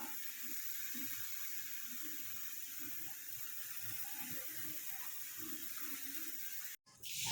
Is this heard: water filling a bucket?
yes